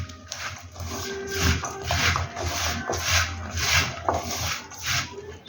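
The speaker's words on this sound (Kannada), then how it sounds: "ಈಗ ಇದನ್ನು ಚೆನ್ನಾಗಿ ಮಿಕ್ಸ್ ಮಾಡ್ಕೊಳ್ಳೋಣ." Onion bhajji batter with turmeric, soda and salt being mixed by hand in a bowl, giving a steady, close rubbing and squelching rasp that repeats in even strokes with no speech.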